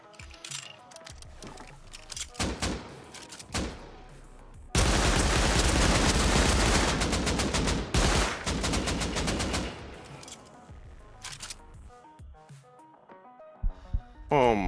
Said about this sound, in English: Oh, that's an AK.